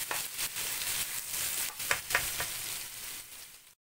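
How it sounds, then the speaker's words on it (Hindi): Garlic frying in a pan for rice, a steady close crackling sizzle with a few sharper pops, running continuously before stopping abruptly near the end. "हमारा गार्लिक फ्राई हो गया"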